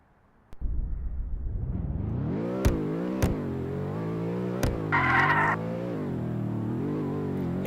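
BMW drift car in the Roblox Horizon game, an engine starting up then droning and revving with shifting pitch, punctuated by a few sharp clicks and a brief screechy burst.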